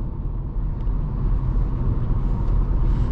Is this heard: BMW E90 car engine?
yes